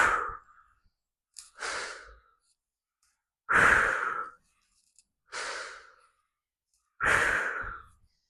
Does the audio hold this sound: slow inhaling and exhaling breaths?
yes